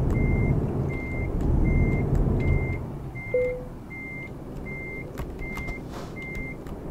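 A truck in the Euro Truck Simulator video game backs up at a fuel station, its reversing alarm beeping in a steady evenly spaced series over a low idling engine, with a short hiss partway through.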